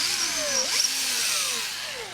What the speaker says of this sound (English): now I can move my drill back and forth between these two locations